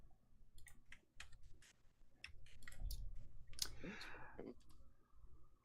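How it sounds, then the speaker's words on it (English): A computer keyboard clicks erratically at a podcast-style desk: faint, irregular bursts of clicks and taps come in uneven clusters, with soft room noise and low voices underneath. "My keyboard is like freaking out"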